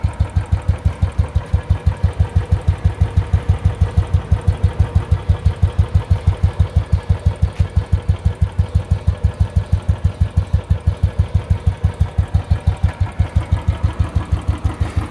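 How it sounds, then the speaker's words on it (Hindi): A Royal Enfield motorcycle idles nearby with a loud, deep exhaust note, a rapid, perfectly regular thump that keeps a steady rhythm for about fifteen seconds with no voices. "बट आप एग्जॉस्ट नोट सुनिए।"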